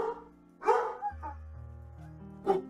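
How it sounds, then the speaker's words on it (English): A dog barks outdoors in a few sharp, separate bursts at moderate distance, with a game's music and tones running underneath and no talking. "That's some dog barking right there."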